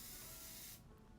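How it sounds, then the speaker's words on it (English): Patrick Ta spray-on highlighter misted toward the face from a short distance: a single soft, hissing aerosol burst lasting under a second, then stopping abruptly into quiet. "and just give a little spray"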